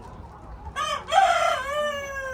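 A rooster crows close by on a farm in rural Texas among chickens, one loud drawn-out harmonic crow rising then holding, with softer background clucking and no talk.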